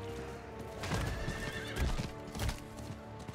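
Horse in Diablo 4 game audio whinnies and clip-clops, hooves thudding in an uneven rhythm with loud heavy impacts near 1.8 and 2.5 seconds, set against dense game music and ambience.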